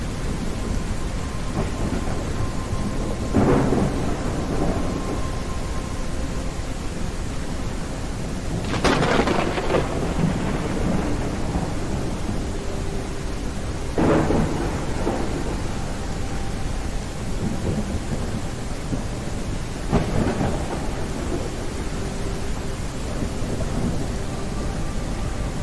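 Steady rain hisses throughout a kayaking scene in Kayak VR: Mirage, broken by several loud rolling thunder cracks spaced a few seconds apart, each swelling and fading over the downpour.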